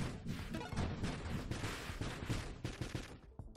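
Boosted shots fire in the Nova Drift space shooter, a dense, loud, rapid stream of blasts and crackling impacts with no pause.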